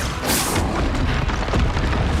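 A Confringo explosion spell goes off in Hogwarts Legacy combat, a loud booming blast with a crackling burst at the start, followed by rumbling, noisy debris and effects.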